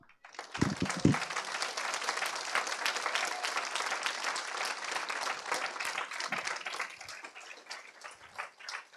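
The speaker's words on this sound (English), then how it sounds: "I would like now to give a round of applause to yourselves" A crowd applauds steadily for several seconds, many hands clapping in a dense patter, with a few thumps early on.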